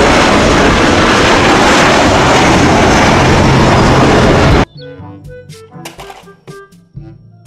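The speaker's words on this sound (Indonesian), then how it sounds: "Pesawat terbang." Loud broadband jet-like roar of an airplane sound, as from a toy vehicle, held steadily and then cutting off abruptly, followed by short bright musical tones and clicks.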